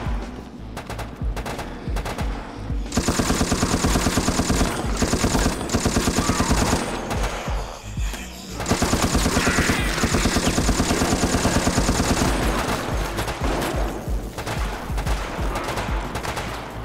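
Rapid automatic gunfire in Resident Evil: Operation Raccoon City, long sustained bursts of machine-gun fire broken by a few short pauses, loud and continuous over a busy game soundscape.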